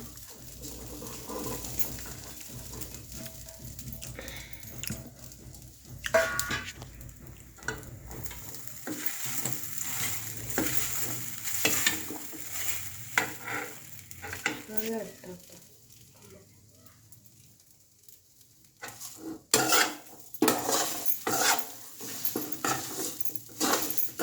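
Sabudana (sago) being stirred as it fries in a pan, with a steady sizzle and repeated scraping strokes that come and go in bursts, near and moderately loud.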